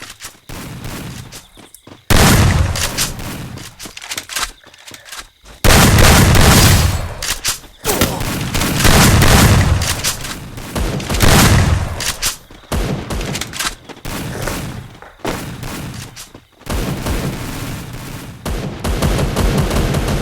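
Gunfire in the shooter game Gun King Squad comes in loud, dense bursts across about twenty seconds, with short pauses between volleys and a faint voice underneath at times.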